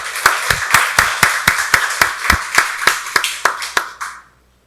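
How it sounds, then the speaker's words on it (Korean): A congregation at a Sunday church service claps in unison, about fifteen sharp, evenly spaced beats that carry loudly and close, then stop abruptly into quiet, with no talking over them. "박수로 하나님께 영광 돌리겠습니다"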